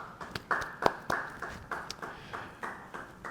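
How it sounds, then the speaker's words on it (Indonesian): Sparse, light clapping in a church Bible study gathering, a scattering of separate claps in an uneven rhythm, fairly soft and with no talk. "Beri tepuk tangan bagi dia."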